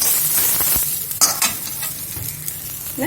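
Sprouted green gram (moong beans) sautéed in a pan: a loud, close sizzle with a spoon scraping and stirring in a few distinct strokes, with no talking.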